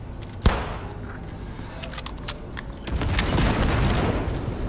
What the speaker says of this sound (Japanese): その後は特にバグもなく無事にヤクの製造所を爆破しました